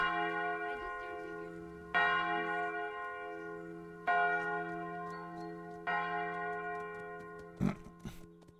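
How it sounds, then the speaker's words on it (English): Church bells toll in slow, evenly spaced strikes roughly every two seconds, each ringing out with a long, rich hum that sustains between hits, followed by a brief sharper clang near the end; no voices are heard. "Hear the bells."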